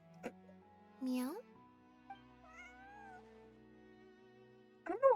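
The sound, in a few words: person imitating a cat meowing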